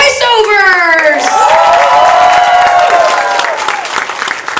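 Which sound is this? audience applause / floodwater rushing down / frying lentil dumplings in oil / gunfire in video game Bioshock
audience applause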